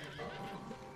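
A horse gives one short, close whinny that lasts about a second and stands out clearly above quiet background noise.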